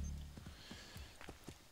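Horse hooves clopping in the video game Assassin's Creed 3, a run of soft, uneven clip-clop steps at moderate distance over a faint background hum, with no talking.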